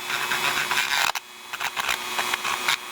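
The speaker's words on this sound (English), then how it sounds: "So what I do is I just shape the epoxy and grind it away." A power tool grinds down built-up epoxy on a wire hanger, a close, steady whine broken by short pauses and bursts as the tool is pressed on and lifted off the work.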